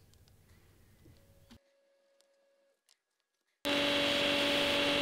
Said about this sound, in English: You just essentially start grinding down, and when you're new at this, take it very slow.